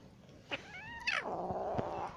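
An adult cat lets out one drawn-out meow that bends downward in pitch, faint and close, over a low background hiss.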